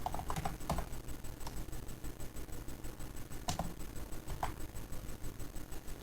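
Computer keyboard keys clacking in short irregular bursts while entering access list commands, close and fairly quiet over a steady fan-like hum, with no talking.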